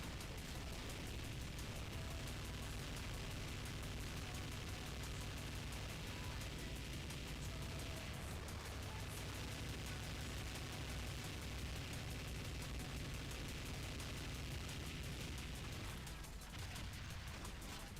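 Constant explosions from the SAS: Zombie Assault 4 video game form a dense, unbroken roar of blasts and bursts for the whole stretch, loud and even, with music buried somewhere underneath.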